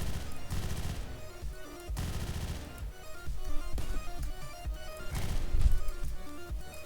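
Loud bursts of gunfire in Hotline Miami, rapid shots and crashing impacts fired close to a wall, dense and repeated over a pounding music backdrop.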